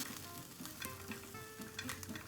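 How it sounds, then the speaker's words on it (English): Peeled almonds toasting in a hot pan, a soft, close crackle and sizzle with scattered light pops and occasional stirring scrapes, quiet and continuous. "It's hot already. Throw in your almonds."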